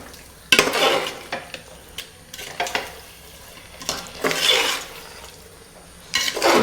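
A spoon stirs chicken in a pot on high flame for a one-pot bachelor chicken biryani, giving bursts of scraping, clinking and sizzling in uneven strokes with quieter pauses between.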